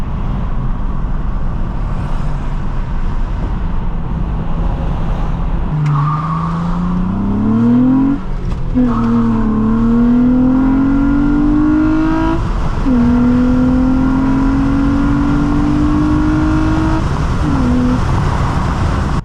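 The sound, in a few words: Nissan Altima car driving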